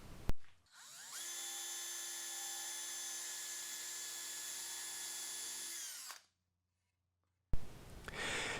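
Small power drill boring fret holes into a wooden guitar neck: a whine spins up, holds steady for about five seconds, then winds down, followed by silence and a brief handling noise.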